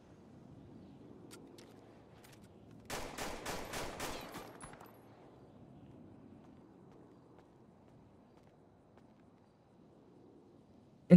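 Pistol fire in the FiveM game: a quick, fairly loud burst of about six sharp shots in close succession midway through, with a quiet, low background before and after.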